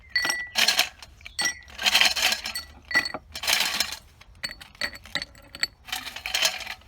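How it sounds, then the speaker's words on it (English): Ice cubes clinking and rattling into a glass for iced mulberry leaf tea, several bursts of sharp glassy clatter with short pauses between, close and fairly soft, with no talking. "I'm going to fill my glass with a little bit of ice"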